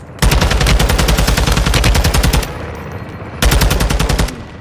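Heavy machine gun fire aimed at a vehicle in Call of Duty Modern Warfare II: a long, loud, rapid burst, a short pause, then a second burst.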